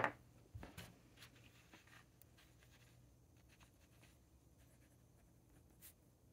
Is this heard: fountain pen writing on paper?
yes